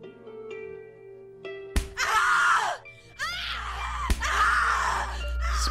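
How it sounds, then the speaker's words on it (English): Repeated blows landing on a woman's stomach in the horror game The Cat Lady, each sharp smack followed by loud, strained female screams and groans, over an eerie droning background. "He's punching her in the stomach."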